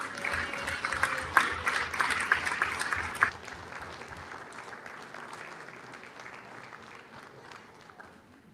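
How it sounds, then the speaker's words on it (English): Audience applauding teachers during a city council meeting, steady dense clapping for about three seconds, then fading to a lighter, thinning patter with a voice faintly under it. "Let's give them a round of applause"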